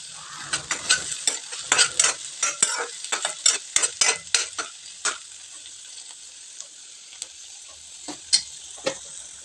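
Chopped onion and curry leaves frying in a pan while a spoon stirs them, giving a steady sizzle broken by a rapid series of sharp scraping clicks that thin out to occasional taps.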